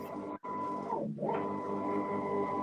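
A printer loaded with fondant sheets starts up, giving a steady mechanical whir and hum with a brief pause near the start and a shifting motor tone, close by with no talk.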